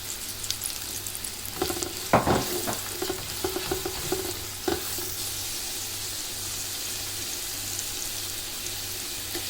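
Garlic, onion and spices frying in a pan as they are stirred, a steady sizzle with scraping stirs clustered in the first five seconds, then a quieter even hiss alone with a low steady hum underneath.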